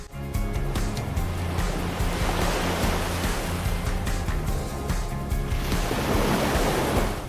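Waves breaking against both sides of a pier on a northern Michigan shoreline, a loud, continuous wash of surf that keeps rolling without pause.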